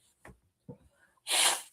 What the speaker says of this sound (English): Itchy, I'm sneezing.